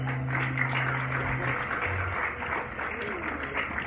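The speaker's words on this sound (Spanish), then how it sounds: "Un aplauso para Cristo bien fuerte" Audience applause for Christ at a live open-air worship concert in Liberia, Guanacaste park, a steady wash of crowd clapping filling the whole moment, fairly loud and continuous.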